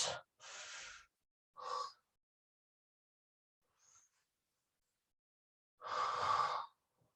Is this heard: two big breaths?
yes